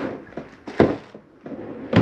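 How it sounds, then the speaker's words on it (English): Doors and drawers being shut inside a 2018 Coachman Apex 249RBS travel trailer: a few short, close thuds and clunks spaced apart, the loudest near the middle and another at the end. "make sure all doors and drawers are closed"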